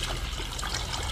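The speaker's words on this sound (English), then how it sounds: "Pour some vinegar into a pitcher." Vinegar poured from a container into a pitcher, a close, steady liquid trickle and stream lasting about a second with no talk.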